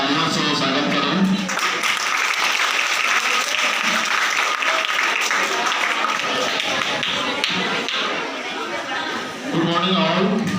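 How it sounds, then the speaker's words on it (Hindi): A school audience claps steadily and loudly for about ten seconds, a dense wash of applause with crowd chatter mixed underneath. "उनका तालियों से स्वागत करें"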